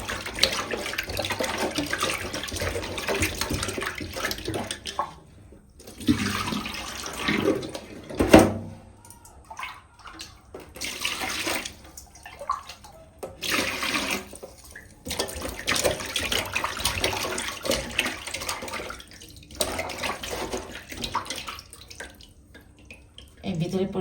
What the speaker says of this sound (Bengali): মাছটা ধুয়ে নিই ভালো করে